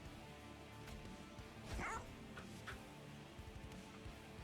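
Bone Dog, a creature in the video game Monster Train 2, gives a short bark at mid-clip over steady game music and effects. The bark is brief and stands close in the mix.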